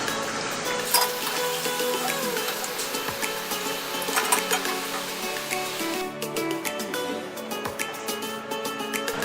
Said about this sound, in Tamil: நல்லா பொரிஞ்சு தண்ணி சத்தம் அடங்கினோன்னே எடுத்துடலாம்